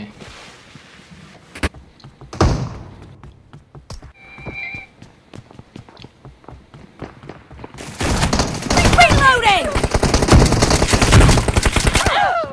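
Gunfire in a multiplayer squad-versus-squad shooter game: scattered single shots early on, then a loud dense burst of rapid automatic fire filling the last several seconds, with no clear talk.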